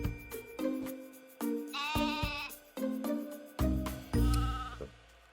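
Sheep bleat over and over, about six loud, wavering calls in quick succession, close and with nothing else heard.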